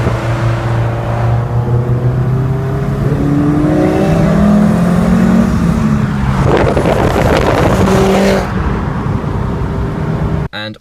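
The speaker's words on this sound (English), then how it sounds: "Cobra, turbo back exhaust, straight through, decat, non-res." A car fitted with a Cobra turbo-back, straight-through, decat, non-resonated exhaust revs and pulls repeatedly, its raspy engine note rising and falling loudly for several seconds before cutting off abruptly near the end.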